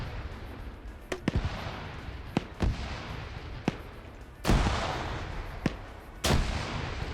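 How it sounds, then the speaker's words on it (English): Grenade explosions in a military video game match: a scatter of sharp distant cracks, then two heavier, louder booms that ring out briefly, with no talking. "Plenty of grenades getting thrown over here."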